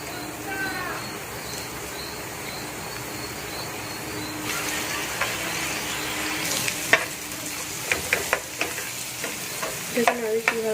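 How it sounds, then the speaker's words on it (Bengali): Eggs sizzle in a pan with chilli, coriander and cumin, a steady frying hiss with scraping stirs and spatula clicks growing busier toward the end, no talk over it. "দেখুন আমি কীভাবে ভাজছি"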